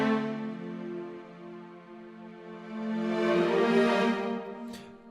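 String quartet with cello swelling into the next section: sustained bowed chords that hold softly, then build in a gradual crescendo toward a fuller peak before easing off, with no talking.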